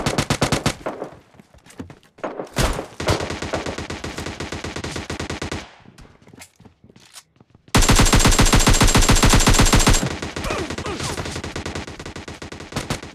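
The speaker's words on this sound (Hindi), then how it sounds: "भाई फायर के साउंड सुनो, मतलब कितने तगड़े साउंड आ रहे हैं।" Gunfire in the mobile game PUBG Mobile Lite: rapid, loud automatic bursts with short gaps, then a long, dense stretch of sustained machine-gun fire that eases slightly toward the end, no voices.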